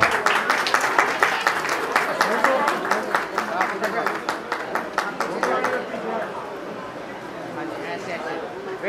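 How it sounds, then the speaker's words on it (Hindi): A crowd at an award ceremony breaks into loud, sustained applause, dense rhythmic clapping that gradually thins out toward the end, with some voices murmuring underneath. "जोरदार तालियां"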